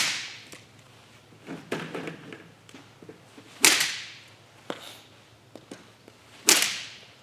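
A stick is whipped through the air in a baseball soft-toss hitting drill, giving sharp swishes that repeat a few times at intervals, near and fairly loud over quiet background rustle.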